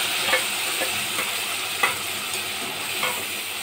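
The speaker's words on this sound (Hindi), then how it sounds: "तो अब इसमें हम डालेंगे मसाला।" Masala spices stirred into a Bihari-style fish curry frying in mustard oil and garlic, a steady close sizzle with a few soft scraping stirs of the spoon, no talking.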